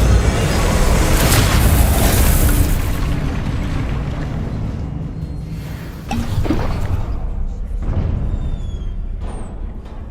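A fire spell in Hogwarts Legacy bursts with a heavy boom and whooshing roar that slowly fades, followed by a few thumps and crackles with sparkling tones near the end, loud and close.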